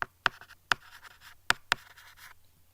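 Pen writing on paper, close and quiet, with a short run of scratchy strokes broken by several sharp taps, then the scratching stops.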